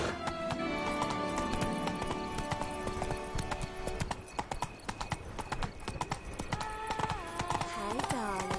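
Roach, a horse in The Witcher 3: Blood and Wine, clip-clops along in a rapid, steady hoofbeat rhythm, with a whinny near the end over a busy game soundscape.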